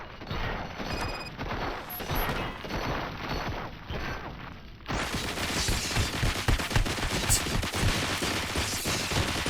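Gunfire in the video game RoboCop: Rogue City: quieter clattering at first, then a dense, sustained barrage of rapid shots bursts in and continues loudly to the end.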